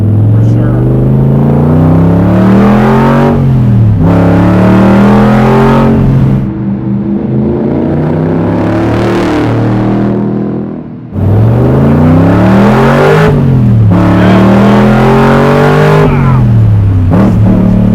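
A Corvette Grand Sport fitted with a 750-horsepower naturally aspirated Mercury SB4 427 engine revs hard and loud in several sweeping climbs and drops, holding a steady roar between surges with a brief lull before winding up again.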